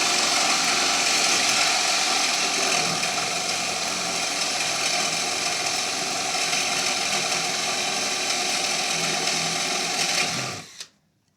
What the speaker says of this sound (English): Place that little guy, drill a little hole